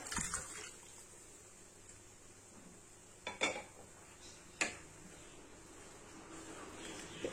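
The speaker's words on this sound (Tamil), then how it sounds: "இந்த மட்டன் வேக வச்ச தண்ணியோடவே இதை சேர்த்துக்கிறேன்." Cooked mutton poured with its cooking water into masala in a pan: quiet liquid sounds with a few sharp clinks of utensil against the pot, fairly faint and without talk.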